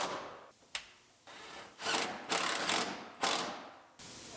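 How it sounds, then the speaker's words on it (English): Ratchet tightening bolts while working on a 2017 GMC Terrain Denali, several separate bursts of close ratcheting clicks with brief pauses between them. "And we'll just bolt it up all the way along."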